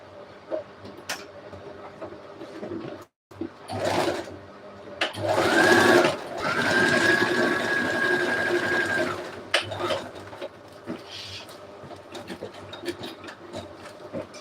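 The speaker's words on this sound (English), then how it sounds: "I'm going to sew here and join these two pieces together." A sewing machine stitches two pieces of dress fabric together, running in a steady whirring burst of about five seconds, close and clear, with softer handling noises before and after.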